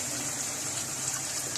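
Soy sauce pours into a pan for restaurant-style Chinese chicken and vegetable fried rice, giving a steady close liquid gush that lasts the whole short moment with no talking.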